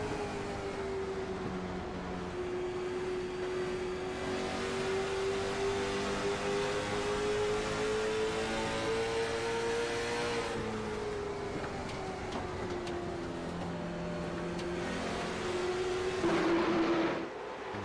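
Late model stock race cars at Indianapolis Raceway Park roar past in a steady, loud drone of engine noise, pitches rising and falling as cars run through the turns, with no break in the sound.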